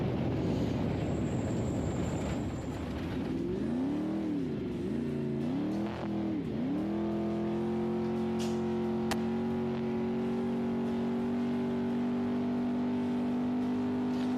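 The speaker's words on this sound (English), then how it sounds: "you can hear the engine bogging a little bit in that soft stuff" An off-road race vehicle's engine bogs in soft ground during the Vegas to Reno desert race, its pitch dipping and wavering under load before settling into a steady, strained drone, close and loud.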